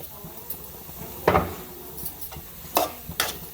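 Tempering spluttering in a hot pan for an old-style gongura curry, a few sharp crackling bursts and a spoon stirring against the pan, close and fairly loud with quiet gaps between.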